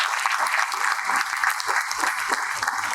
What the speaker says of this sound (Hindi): कृपया जोरदार तालियों के साथ उनका स्वागत करें।